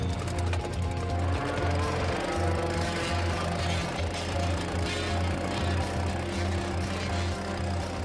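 A vibracorer's hollow tube shakes about 4,000 times a minute as it drives into pond-floor sediment, giving a steady, loud mechanical buzz with a deep pulsing hum, continuous and close throughout.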